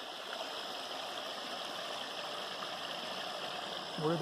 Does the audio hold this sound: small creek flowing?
yes